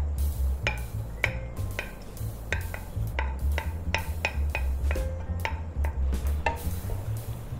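Beef and broccoli stir fry stirred in a pan, a utensil clacking against the metal in quick, irregular knocks over a soft background sizzle.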